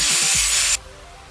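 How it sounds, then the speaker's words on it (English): An angle grinder with a cutoff disc cuts checkerboard lines into a steel blade tang for a slingshot. It makes a loud, close, high-pitched grinding screech that stops abruptly after under a second, leaving a faint low hum. "to use the angle grinder with a cutoff disc to cut some checkerboard lines on either side of the blade that is going into the slingshot"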